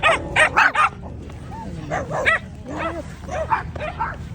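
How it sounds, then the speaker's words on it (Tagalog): Several dogs bark and yip in quick bursts, followed by softer whimpers and whines, with faint background chatter. "Daming aso. Ang cute ng mga aso."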